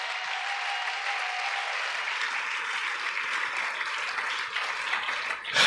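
A church congregation applauds the Lord after a sermon, producing steady, dense clapping that holds evenly throughout and swells slightly at the very end, with no clear voices standing out.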